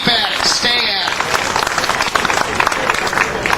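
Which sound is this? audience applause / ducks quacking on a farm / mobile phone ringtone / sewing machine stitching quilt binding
audience applause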